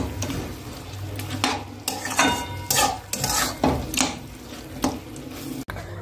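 Goat meat being stirred and braised in a pan, a spoon scraping and clinking against the metal in irregular strokes over a soft sizzle, close and fairly quiet.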